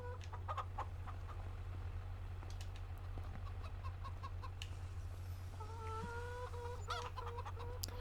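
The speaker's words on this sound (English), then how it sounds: "there's 451 chickens in there" Chickens in a Farming Simulator 25 game cluck repeatedly in scattered short bursts over a steady low hum, with a few louder calls near the end and no talking.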